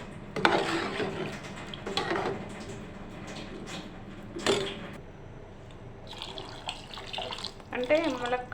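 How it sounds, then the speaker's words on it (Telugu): Water poured into a cooking pot of oil for a drumstick curry, giving several bursts of splashing and sloshing close to the microphone, with quieter stretches between them and a voice speaking in places. "మనకు తగినంత వాటర్ పోసుకున్నాం"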